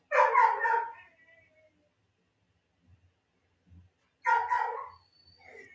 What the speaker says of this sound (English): the puppy is barking now